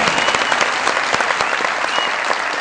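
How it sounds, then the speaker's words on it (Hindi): Studio audience applause on a Pakistani comedy talk show, a loud, dense and sustained wash of clapping from a crowd, continuing steadily without talk. "बहुत सारी तालियां"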